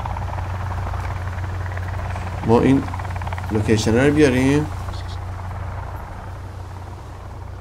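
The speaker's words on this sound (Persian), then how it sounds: "صدای هلیکوپتر میاد" A helicopter drones in a constant low rumble during a night scene in the video game Sons of the Forest, with someone talking briefly over the steady engine hum.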